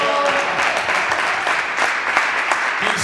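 A church congregation applauding for Christ during a Bible teaching session in Burkina Faso, with dense, sustained clapping filling the room steadily and loudly throughout.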